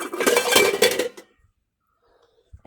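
Metal cooking pots, including a frying pan and a lid, clink and clatter together in a short close burst lasting about a second, followed by near silence with a faint knock at the end.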